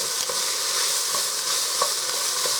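Vegetables for corned beef and cabbage soup sauté in a pot, an even, close sizzle with light periodic stirring clicks and no voices.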